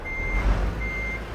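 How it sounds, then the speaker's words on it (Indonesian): Truck reversing beeps in Euro Truck Simulator 2, a steady high tone pulsing on and off twice over a low engine drone, fairly loud with no talking. "Mengundurin truk mode"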